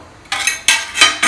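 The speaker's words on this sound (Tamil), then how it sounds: "மூடி வைக்கிறேன்." Metal clatters against a cooking pot of village-style crab curry as a lid is set on it, several sharp clanks in quick succession, close and loud.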